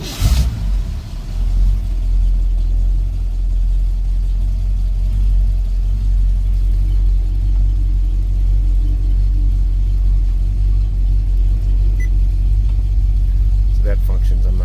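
A 1965 Ford Mustang V8 with automatic transmission catches after a short crank and settles into a deep, loud, steady idle rumble that runs close by to the end.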